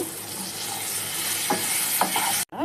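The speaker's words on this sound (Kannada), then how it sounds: "ಬೇಳೆ ಕಡಲೆ ಬೀಜ ಎಲ್ಲ ಫ್ರೈ ಆಗಿದೆ" Peanuts, dal and curry leaves fry in hot oil with a bright, dense, continuous sizzle, broken by a few utensil scrapes and stirs and a brief dropout near the end.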